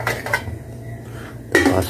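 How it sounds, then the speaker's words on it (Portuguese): Metal lids set onto cooking pots in a home kitchen, two loud close clanks a moment apart with softer rattling in between, no talking. "tapa as panelas, pronto."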